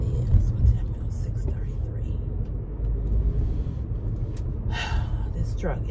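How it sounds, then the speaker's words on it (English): A truck creeps slowly past, its low engine rumble steady and close throughout, with breathy vocal sounds nearby over the top. "This truck is taking forever to go through here."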